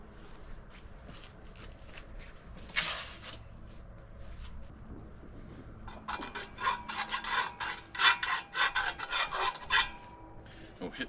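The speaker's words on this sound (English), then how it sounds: "We'll hit the edge of it with a little bit of a file because it's pretty rough after you use any sort of abrasive cut off like that" A hand file rasps along the rough, abrasive-cut edge of a new exhaust pipe for a 2006 Volvo XC70, a few tentative strokes first, then a quicker run of close, gritty scraping strokes, alone without talk.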